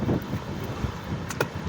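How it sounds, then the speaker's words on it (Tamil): Strong wind gusts buffet the microphone outdoors near coconut trees on a summer day, a rough low rumble that rises and falls, broken by a couple of brief sharp clicks, with no voices over it. "காற்று பயங்கரமாக காற்று அடிக்குது"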